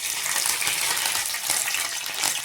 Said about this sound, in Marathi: घे तेलात कढीपत्ता टाकून